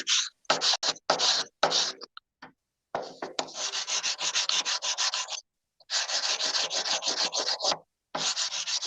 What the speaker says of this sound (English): I might actually emery it too so that you can see better